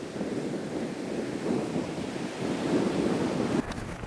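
Steady roar of Indian Ocean surf and gusting wind at Shell Beach in Western Australia, a broad continuous wash with wind buffeting the microphone.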